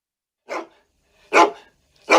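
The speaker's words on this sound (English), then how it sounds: "Does your dog's bark drive you a little crazy?" Three sharp, separate dog barks, loud and close, each followed by a clean pause of silence.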